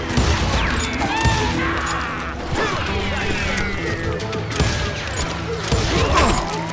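Gunfire during a Wild West shootout in Call of Juarez Gunslinger, with repeated shots and metallic mechanical clatter, loud and dense throughout with brief gaps.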